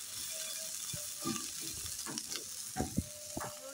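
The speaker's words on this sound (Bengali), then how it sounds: "আর আলু খুব ভালোভাবে ভাজা হয়ে গেছে" Potatoes fry in a pan with a soft, steady sizzle, punctuated by a few scraping stirs and light clinks that rise toward the end; quiet and close.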